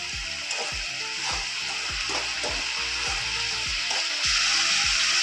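Chopped vegetables fry in hot oil for a chow chow bath vegetable upma. A steady close sizzle runs throughout, broken by regular scraping taps of a spatula stirring the pan, with no talk.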